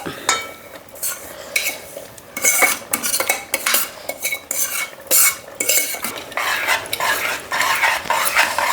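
A metal spoon stirs semolina into cooked moong dal payasam in a pot. Repeated close scraping and clinking strokes come in an irregular rhythm over a faint simmer, with no voices.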